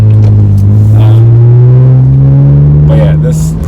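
An Acura TL engine revving, a loud rising drone that climbs steadily in pitch under strong acceleration, heard close from inside the car, with a voice faintly present over it.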